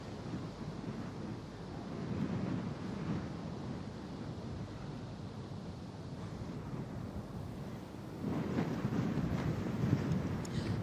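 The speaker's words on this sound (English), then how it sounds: "It's so windy out here at the moment" Gusty wind blowing across an open golf course during a women's amateur championship final, a continuous muffled rumble buffeting the microphone and swelling louder near the end.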